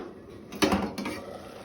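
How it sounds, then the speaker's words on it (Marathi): Moringa leaf sabzi stirred in a pot, a brief scrape and clatter of a utensil against the metal pot with a couple of short knocks, alone and fairly quiet. "भाजी ढवळून घेवया।"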